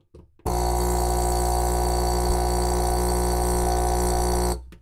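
A laser engraver's air assist pump runs with its hose disconnected, starting abruptly and holding a loud, steady harmonic drone with a buzzing tone for about four seconds before cutting off.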